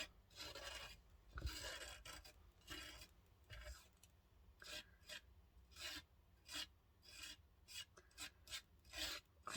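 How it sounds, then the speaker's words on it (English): Texture paste being scraped off a craft stencil, a series of quiet, close rasping strokes in an irregular rhythm, each a short gritty scrape. "scrape that off."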